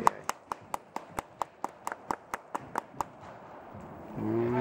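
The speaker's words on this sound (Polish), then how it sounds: "Musimy tutaj zobaczyć, kto to tak klaszcze." Spectators at a women's tennis qualifying match clap in a steady, rhythmic run of about twelve crisp hand claps, fairly close, ending as a louder low rumble and faint tonal sound swell in.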